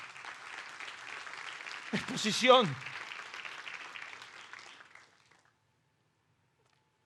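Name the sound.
audience applause in church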